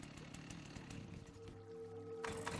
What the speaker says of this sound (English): Chainsaw the door.